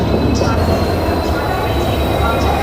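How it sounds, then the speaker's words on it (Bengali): Sri Jagannath Express pulling into platform one at a station, a steady loud low rumble of rolling carriages with faint wheel squeal, continuous throughout without talk. "ঘড়িতে সময় 6:04 আর 1 নম্বরে ঢুকছে শ্রী জগন্নাথ এক্সপ্রেস।"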